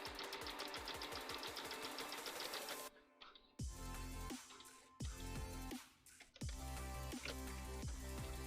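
A sewing machine runs in fast stitching bursts while sewing double-fold bias tape for undergarments, its rapid mechanical needle chatter pausing briefly between runs, close and fairly loud with no talking.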